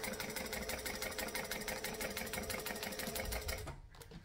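Domestic sewing machine stitching the side seams of a garment, a fast, steady mechanical whir with rapid needle rhythm running close and continuous before stopping abruptly near the end.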